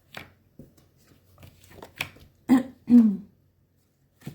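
Oracle cards are cut into three piles on a table, with a few soft card slaps and shuffling flicks close by, separated by quiet pauses.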